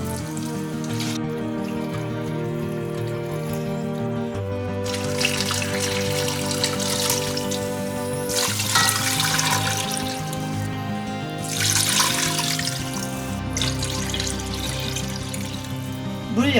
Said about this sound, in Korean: 물 8컵 넣었어요.